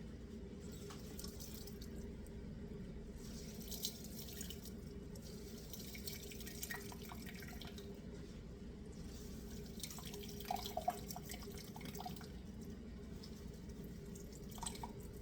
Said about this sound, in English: wring this towel as tight as you can over the sink and get more fluid out.